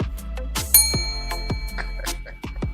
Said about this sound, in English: the bell rang and an angel got its wings